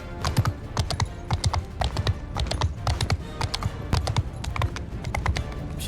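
Steady clip-clop of horse hooves from Mount & Blade II: Bannerlord, a rapid galloping rhythm close and clear throughout, without speech.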